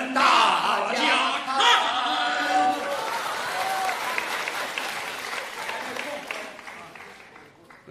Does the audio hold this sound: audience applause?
yes